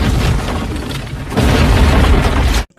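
A dynamite explosion on a jungle river in the 1997 film Anaconda, a loud deep rumbling blast that swells again midway with heavy low-end roar before cutting off abruptly.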